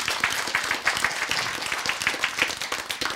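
Audience applause at a Bible-and-science lecture, a steady patter of many hands clapping together for about three seconds, moderately distant and even in level.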